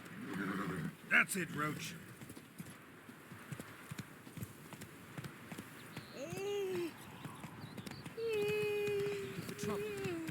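Roach the horse in The Witcher 3 neighs with a shrill whinny early on, then hooves clip-clop steadily under game music and ambient sound, with someone speaking briefly.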